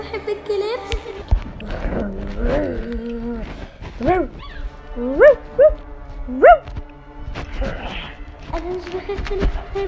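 Dog in the Avatar World video game giving several short barks and whimpering yips at an uneven rhythm, close and moderately loud, mixed with other playful game sounds.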